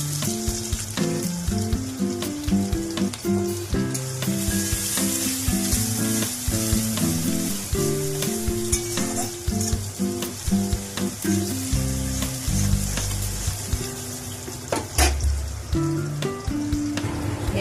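Sliced onions frying in hot oil spiced with cinnamon and cardamom for a desi chicken curry: a steady, loud sizzle and crackle throughout, with occasional stirring scrapes and light clatter, and no voices.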